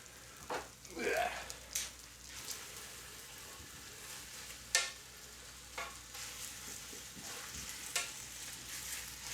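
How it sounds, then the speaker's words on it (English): Beef sears in a slow cooker multi-cooker with a faint, low sizzle, broken by several sharp scrapes and clinks of a utensil moving the meat around the pot. "we're going to get all the beef in now in the slow cooker. And we're going to give it a sear"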